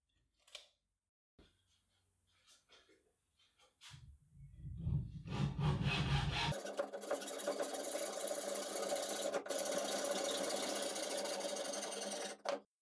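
A length of wooden mandrel stock for a paracord tying tool is cut with a power saw. A few faint knocks come first, then a loud, steady, continuous whine runs for about seven seconds before stopping abruptly. No talking.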